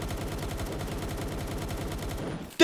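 A submachine gun fires in a Pokemon-style creature-collecting video game, sending out a rapid, evenly spaced stream of loud shots that stops abruptly near the end, followed by a brief sharp burst.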